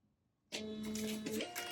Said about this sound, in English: Use a Dymo printer.